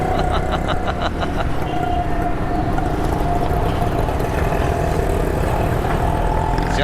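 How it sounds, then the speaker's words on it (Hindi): Dense street traffic in Karachi's Lyari area near the Jilani market clock tower, a steady close wash of car and motorbike engines with occasional revving, continuous through the whole stretch without talk. "खचाखच ट्रैफिक।"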